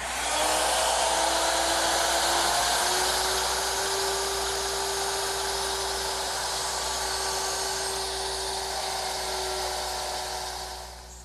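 A router with a 1/4 inch bit mortises wooden table legs, a loud, close, high-pitched steady whine that holds for several seconds and then winds down at the end, with no talking.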